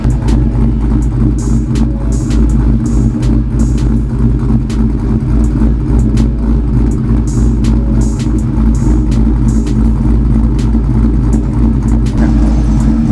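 A car engine runs steadily after its spark plugs were regapped, a loud continuous low rumble with a constant idle throb and no voices over it.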